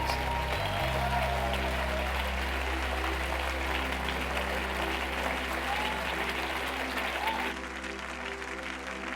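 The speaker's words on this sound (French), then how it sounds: "Let's give Jesus the biggest hand of the morning." A congregation at a church service claps loudly and continuously, a dense sustained wash of applause with a low droning hum beneath, easing slightly toward the end.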